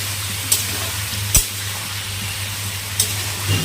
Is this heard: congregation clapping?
no